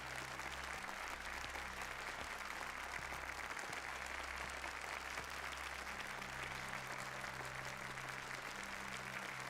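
A generic background crowd of non-player characters claps steadily in the video game Like a Dragon Gaiden, a dense, even wash of applause that holds without pause under a low electronic hum.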